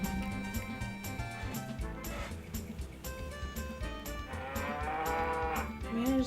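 Cows mooing in the Harvest Moon 64 video game, several drawn-out synthesized moos over a rhythmic game music loop, clear and fairly loud.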